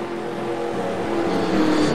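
Race car engines in an eNASCAR video game, a loud sustained engine drone with steady whining tones that swells slightly toward the end, close and continuous.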